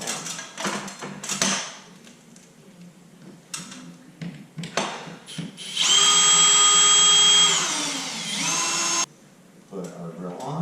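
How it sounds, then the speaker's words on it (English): A power drill runs in loud sustained bursts while screwing down a subwoofer during a home theater install, with a long steady whine in the middle, shorter spurts around it, and talk between the bursts. "Put our drill on."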